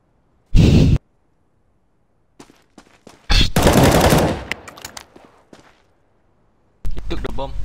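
Gunfire in Counter-Strike: Global Offensive during a competitive match: a short, loud automatic burst, scattered single shots, then a longer rattling burst and a final burst near the end, with gaps of near silence between.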